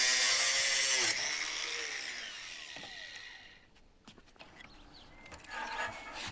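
An angle grinder cuts through a metal electrode support rod, loud and steady for about a second, then winding down as the disc spins to a stop, followed by faint handling noises.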